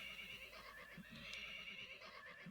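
Horses in the OpenTTD video game neigh and whinny repeatedly, a game sound effect with high whinnies over a soft steady background, fairly faint and without talk.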